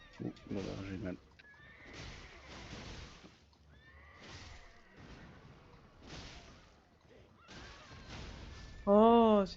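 A horse in a video game lets out a loud, close whinny near the end, following stretches of people talking over quieter game sounds.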